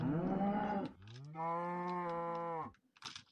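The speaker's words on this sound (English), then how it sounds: "Okay, cows." Cows in the Minecraft video game moo in two long, drawn-out calls separated by a short pause, followed by a few faint clicks, with no talking over them.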